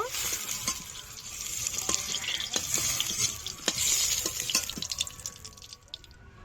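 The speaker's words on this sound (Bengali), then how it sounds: "অল্প একটু হলুদ গুঁড়ো ডিমটা ভালো করে ভেজে নেব" Eggs frying in oil with salt and a pinch of turmeric give a soft, continuous sizzle and watery crackle, with a few light utensil taps and scrapes; no voices, and the sound thins toward the end.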